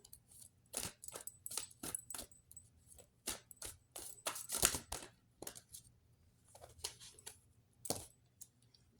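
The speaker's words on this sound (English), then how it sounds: "Three card shuffle hands" Tarot cards are shuffled by hand in short, crisp, papery riffles and slaps, clustered in quick irregular bursts with brief pauses, close and fairly quiet.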